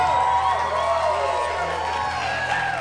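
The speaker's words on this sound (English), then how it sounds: "would you put one more big round of applause" Wedding reception crowd at the dance floor cheering and clapping for the bride and groom, a dense, steady roar of applause and whoops held at full strength throughout.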